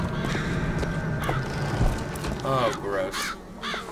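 Crows in BioShock Infinite caw and scatter as they fly off, their harsh calls sounding close against a busy game background, with someone talking over them.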